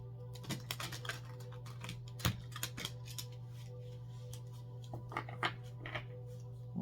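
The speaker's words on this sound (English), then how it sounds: "Last shuffle." A deck of tarot cards is shuffled during a reading, giving soft, scattered riffling and flicking bursts over a steady low hum, quiet and close, with clusters of card taps near the start and end.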